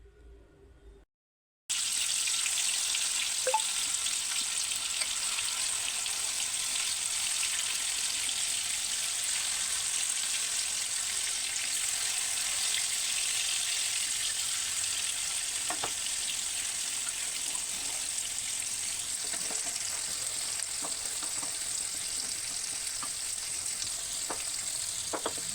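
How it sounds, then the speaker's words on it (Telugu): After a brief quieter start, marinated fish pieces hit hot oil in a pan and fry with a constant, fairly faint hiss and sizzle, broken by occasional light pops and clicks, with no speech. "మూకుడు పెట్టుకొని దాంట్లో ఆయిల్ పోసుకున్నాడు ఫ్రైకి, ఫిష్ ఫ్రై చేయడానికైతే"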